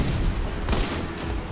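Continuous heavy gunfire in the video game Army of Two The Devil's Cartel, a loud, dense barrage of overlapping shots that barely lets up, with a sharper crack near the middle and no talking.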